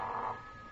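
A telephone rings once at close range, a steady electronic bell tone that sounds for a moment and then fades into room noise, with no one speaking.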